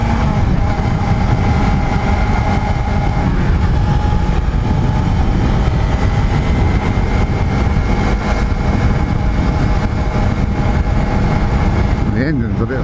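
A Suzuki GSX250R motorcycle engine hums steadily while riding, mixed with heavy wind rush, and a person talks over it throughout.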